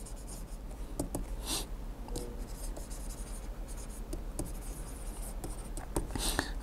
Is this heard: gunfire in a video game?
no